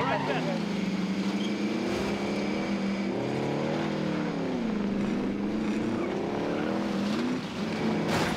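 A vehicle is driven in the video game Call of Duty Warzone, its engine drone loud and continuous with pitch dipping and climbing as it accelerates, and voices mixed into the game sound.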